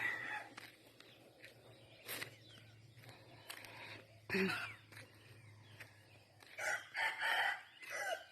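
Rooster crowing with chickens clucking on an early-morning walk outdoors, several crows spread through the clip against steady rural background noise, moderately near.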